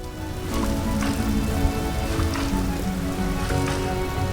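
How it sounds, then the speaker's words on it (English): Steady rain patters across farmland in a farming video game, a dense, continuous hiss with scattered drop taps filling the whole stretch at moderate loudness, no voices. "Because it's raining,"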